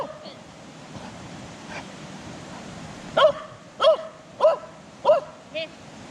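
A dog at a beach barks five times in a row, loud and fairly close, after a quieter stretch of surf-like wash and faint background noise.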